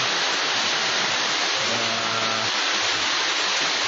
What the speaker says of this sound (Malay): Ini dia terjun piramid.